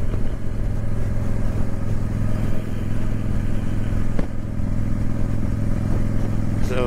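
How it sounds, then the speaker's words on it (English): A Honda Shadow Spirit 750 motorcycle rides along country roads, its engine droning steadily and loudly, with wind rush and road noise throughout. "I just push my motorcycle out of the basement, get on it, and I ride country, curves,"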